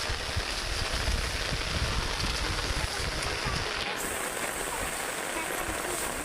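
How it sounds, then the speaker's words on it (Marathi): Heavy rain falls over open farmland with rice paddies, a thick, continuous roar of drops close by that holds steady the whole time, briefly shifting in tone midway. "पावसाचा जोर पण वाढलेला आहे बघा कसा पाऊस"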